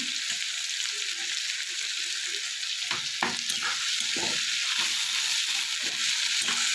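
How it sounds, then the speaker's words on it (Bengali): Sliced onions with salt frying in a pan for aloo bhindi, giving a steady hiss with scattered light crackles and several sharp stirring scrapes close by. "পেঁয়াজটা আমার অনেকটাই ভাজা হয়ে গেছে"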